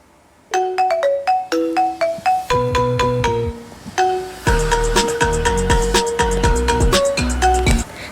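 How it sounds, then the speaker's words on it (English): A custom ringtone plays on an iPhone or iPad: a bright, plucked melodic tone sequence starting softly, then building into a fuller, louder arrangement with a deep bass pulse, repeated chiming notes in a steady rhythm. "So that's my ringtone."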